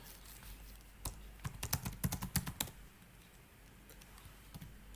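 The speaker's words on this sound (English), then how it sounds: "if I'm typing on my keyboard" Bursts of computer keyboard typing, a quick cluster of crisp key clicks in the middle between quiet stretches, close and alone with no talk.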